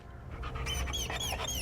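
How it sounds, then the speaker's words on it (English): An abandoned puppy in the video game Hell is Us whimpers and pants up close, with rapid breathy pants broken by a series of high, thin, rising whines. "I found the poor pup whimpering alone in a house"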